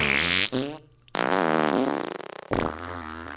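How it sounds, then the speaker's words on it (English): A loud, close comedic fart sound effect plays in a few drawn-out, buzzing bursts with a brief gap between them. "Where's my fart sound?"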